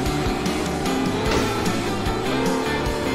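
A tractor engine racing in the game Wedding Designer, loud and continuous with a revving, rattling drone and tire-like squeals across the whole stretch.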